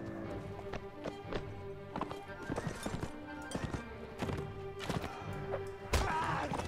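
Horse hooves clip-clop steadily at a trot in Mount and Blade: Warband, over a busy game soundtrack, with scattered thuds and a brief whinny-like burst near the end.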